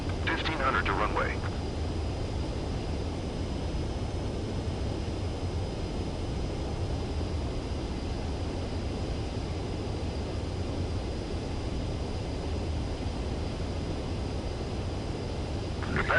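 A fighter jet's engine drones in a steady, broad roar as it comes in to land on a runway in Ace Combat 7, a continuous close rumble with a short burst of higher noise at the start.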